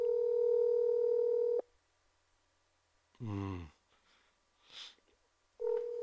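A telephone call goes unanswered: a steady ringback tone sounds, cuts off, then resumes after a pause, with a brief voice and a faint breath in the quiet gap.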